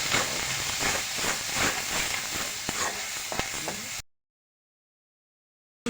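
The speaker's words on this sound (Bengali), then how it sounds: "সামান্য একটু হলুদের গুঁড়া একটু দইনা গুঁড়া আমি এটাকে ভালো করে কষিয়ে নেবো" Ground chili, turmeric and coriander spices sauté in a hot pan for an eggplant and egg fry, giving a steady close sizzle with scattered stirring clicks for about four seconds before the sound cuts to silence.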